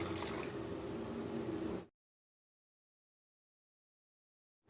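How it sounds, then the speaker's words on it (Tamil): Tamarind water poured into a pan of frying masala for valaipoo (banana flower) rasam, a close, steady splashing and sizzling pour that stops abruptly partway through, leaving silence. "புளி தண்ணி சேர்த்துக்கலாம்"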